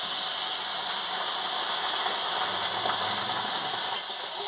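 Cabbage frying in a pan hisses loudly and steadily after a splash of water goes in, a continuous bright sizzle with a small scrape near the end.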